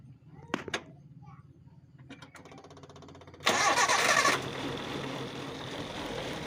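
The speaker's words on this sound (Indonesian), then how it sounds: "ini idle tapi pincang ya, soalnya yang terpasang cuma 3 busi ya" A car engine cranks and catches, then runs roughly on only three spark plugs, a loud surge of revving settling into an uneven, misfiring idle nearby.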